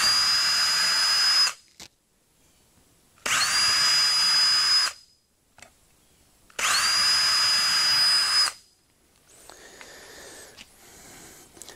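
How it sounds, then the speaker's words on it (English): A power drill pre-drilling screw holes in wood for a garage workbench: three loud whining bursts of about two seconds each, separated by short pauses, then a quieter final run, close and alone. "I like to pre-drill them"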